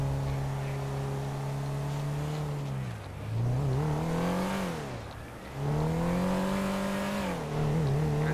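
A car engine drones steadily as it's driven in the video game GTA 5 through the Hollywood Hills, its tone dropping and rising twice as it slows and accelerates again, loud and with no talking.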